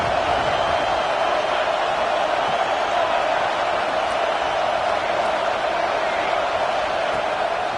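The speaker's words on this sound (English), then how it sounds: "Man, this crowd really affecting the football game." A stadium crowd roars steadily at a football game, a dense, continuous wall of cheering noise with no breaks, heard close and loud throughout.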